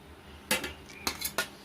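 A spoon clinks sharply against a plate a few times, close and fairly quiet, as fish curry is served over rice, with short bright taps separated by brief pauses.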